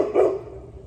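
A single short, loud bark from a dog in a backyard, close to the microphone, fading into a quiet outdoor background.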